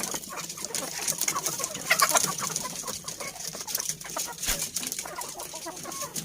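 KUB breed chickens cluck repeatedly in a busy coop, with overlapping calls from several birds at close to moderate range and steady farmyard background noise throughout.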